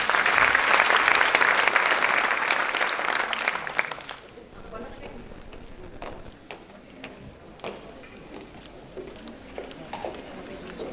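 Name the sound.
audience applause welcoming a speaker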